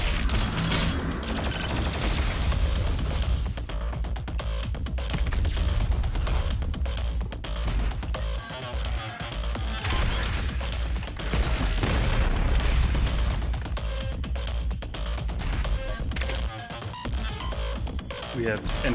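BFG 10000 from the game Doom firing, a dense, loud barrage of blasts and booming gunfire with mechanical clatter running continuously throughout.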